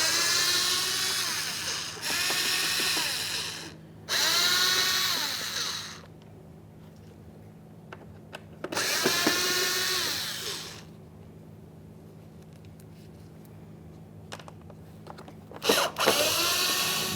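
A power drill backs Phillips head screws out of a Kia Forte front bumper cover in three whining bursts of a few seconds each, close and clear, with quiet gaps and small clicks between them.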